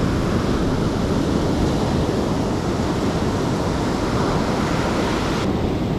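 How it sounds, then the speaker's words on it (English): Ocean surf rolls onto a fishing beach as a constant, loud, broadband roar of breaking waves mixed with wind buffeting the microphone, with no voices. "anytime out on the surf is a good time out on the surf"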